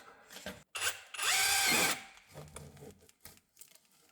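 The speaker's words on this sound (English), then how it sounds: "So what we're going to do is put a drill bit through it." A power drill whirs loudly for about a second as it bores a hole during a bar renovation inside a chapel, with clunks and handling noises before and after.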